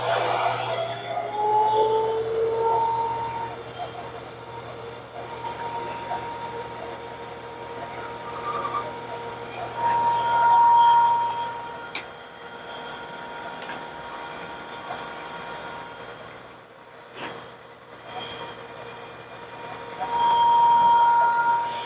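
A milling machine running on auto feed while cutting a modified Midwest Finesse Do-it lure mold, a steady mechanical hum with thin whining tones that swell and fade at intervals, with no talking.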